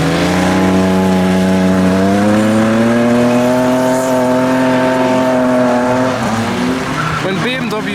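A tuned BMW 3 Series drifting, its engine holding a loud steady high-rev drone with rising pitch before tires screech near the end, close and dominant throughout.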